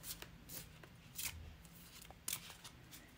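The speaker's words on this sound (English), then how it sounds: "let's shuffle with intention" A tarot deck shuffled by hand, with soft papery riffles and sharper flicks in quick bursts, quiet and close with no voices.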